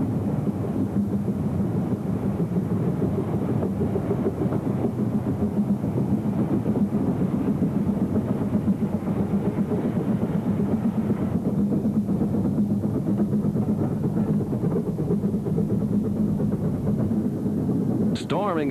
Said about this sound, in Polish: W chmurach dymu i pary, świszcząc i dysząc, potężna lokomotywa Bryant Rotorn Bahn wspina się po górskich zboczach.